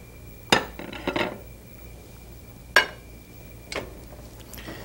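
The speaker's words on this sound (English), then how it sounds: "Give it a stir." A spoon knocks against a metal pot a few times while dal with turmeric, bay leaves and salt is stirred, giving three sharp clinks spread over a few seconds against quiet background.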